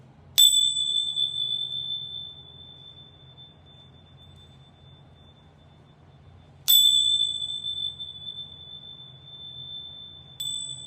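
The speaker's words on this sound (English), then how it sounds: "I'm going to ring my bells 3 times" A small hand bell rings out clearly three times in a quiet room, each strike a bright ding with a long ringing decay, the first two spaced far apart and the third following closer.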